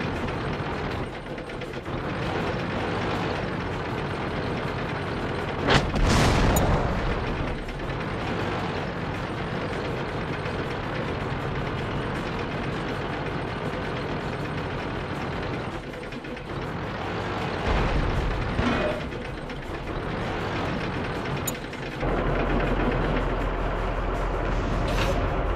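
Tank cannon fire in the video game World of Tanks, a sharp loud blast around the sixth second and a couple of fainter shots later, over a steady rumble of engines and battle ambience.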